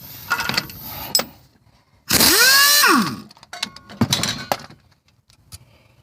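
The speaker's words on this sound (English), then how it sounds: "I've got air tools, so it's going to go pretty quick" A pneumatic air impact wrench with a 14 socket spins a bolt off a 2003 Ford Explorer wheel, one loud, close, rising whir lasting about a second, with clanks and handling clatter of tools before and after.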